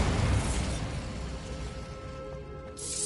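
A Bombarda spell explosion in Hogwarts Legacy: a fairly faint blast that hits at once and slowly dies away, followed by a brief hiss near the end.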